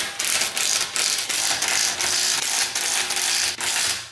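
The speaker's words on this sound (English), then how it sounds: "I'm using a chrome socket on wheels because I am going to properly torque these" Ratchet with a chrome socket tightening bolts on a 2018-2022 Mustang headlight, loud continuous rapid clicking in steady strokes with brief pauses between swings.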